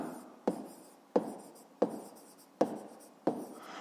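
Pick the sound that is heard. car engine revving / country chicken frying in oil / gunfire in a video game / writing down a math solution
writing down a math solution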